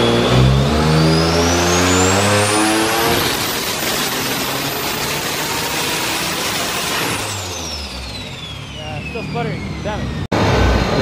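A turbocharged Nissan 370Z engine revving hard after a coil pack swap, loud and close, climbing steeply to a high scream, holding briefly, then falling away, with the rev cut off abruptly near the end.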